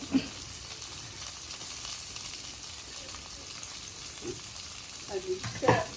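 Chopped onions frying in a pan for a Kollam-style clam (kakka) stir-fry: a steady, soft sizzle runs throughout, with a few brief clinks and stirring scrapes near the end.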